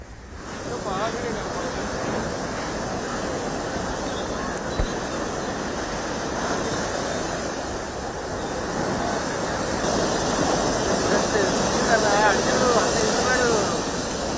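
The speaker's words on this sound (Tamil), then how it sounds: "மயிலாடுதுறை மாவட்டம் தரங்கம்பாடியில் கடல் சீற்றத்துடன் காணப்படுகிறது" Rough, churning sea surf pounds the beach at Tharangambadi in Mayiladuthurai district during Cyclone Ditwah, a steady loud roar of breaking waves mixed with gusting wind noise, continuous throughout.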